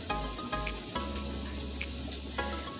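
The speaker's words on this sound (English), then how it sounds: "Okay, the pan is nice and hot. Those are already frying." Onions sizzle and crackle in a hot pan, a steady frying hiss with occasional sharper pops and a low hum beneath.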